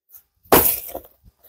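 A small axe chops into a ripe jackfruit with one sharp, close crack followed by a brief split and a couple of faint after-knocks.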